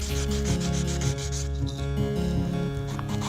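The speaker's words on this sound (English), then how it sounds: "I just scuffed up all the pieces with some rough sandpaper" Rough sandpaper scuffing wooden knife handle scale pieces before laminating, a steady close rubbing rasp with repeated back-and-forth strokes and no talking.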